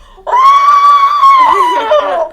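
A voice imitates a pillow's muffled, strained scream for help, one sustained high wail that wavers and breaks up toward the end.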